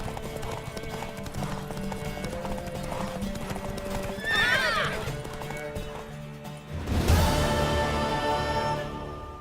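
Horse hooves clip-clop at a gallop in The Witcher 3 video game, with a neigh and whinny midway and a louder crash-like burst of movement later, steady and close under game music.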